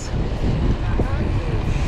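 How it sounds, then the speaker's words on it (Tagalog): Strong wind along the Obhur waterfront rushes steadily across the microphone during a bike ride, a loud, unbroken roar with people talking beneath it. "Ang lakas ng hangin ngayon."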